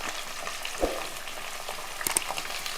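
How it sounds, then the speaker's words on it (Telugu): Chopped onions frying in a pan, a steady close sizzle with a couple of brief pops and clinks. "తర్వాత నేను ఉల్లిపాయ ముక్కలు వేసేసి వేపుకుంటాను"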